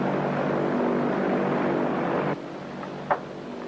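A propeller airplane engine drones steadily in flight, heard from inside the cabin, in a 1935 science-fiction film. The hum drops slightly after a couple of seconds, and a brief knock follows near the end.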